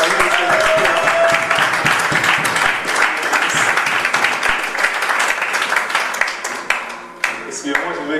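Congregation clapping and applauding loudly through a French church service, sustained dense applause with cheering voices mixed in, fading slightly toward the end.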